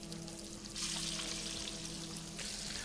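Little fish frying in a pan give a steady, close crackling sizzle that swells louder partway through and keeps going without pause, with no talk over it.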